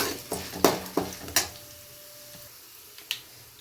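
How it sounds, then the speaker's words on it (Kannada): Curry leaves, a couple of Byadagi chillies and spices fry in a hot pan for a puliyogare spice mix, giving sporadic sharp crackles, pops and light metallic clinks over a quiet background, with no talking. "ಎಲ್ಲ ಫ್ರೈ ಆಗ್ತಾಯಿದೆ."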